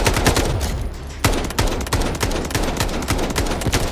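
Rapid automatic rifle fire from an AK in the Garena Delta Force video game, hip-fired at a 100-metre range target, loud and dense with overlapping shots and a few brief gaps.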